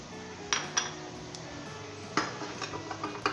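A spoon stirs spices into fried onions in a pan while cooking anda karahi, giving a few sharp metallic clinks and scrapes against the pan. The sounds are sparse and fairly close, over a quiet sizzle.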